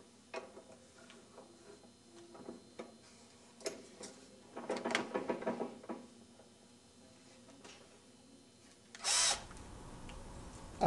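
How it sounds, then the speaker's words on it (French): A power drill bores through two held-together parts at the inner diameter of a screw, with short ticking tool noises first, then a denser drilling stretch and a brief loud burst near the end. "Maintenir les deux pièces et les percer en même temps au diamètre intérieur de la vis."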